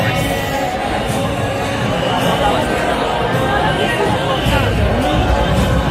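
Packed queue of devotees at Dagdusheth Ganapati darshan, a loud, steady wash of crowd chatter and overlapping voices all around, with faint cheering rising now and then.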